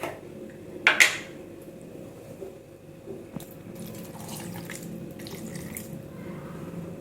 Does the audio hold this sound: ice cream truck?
no